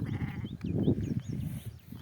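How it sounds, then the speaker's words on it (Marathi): A ewe and her two newborn lambs bleat close by in a pen during rain, several short overlapping calls against a low rumbling background, with higher thin lamb cries mixed in. "इथं वाड्यात एक मेंढी आहे तिला दोन पिल्लं झालेत"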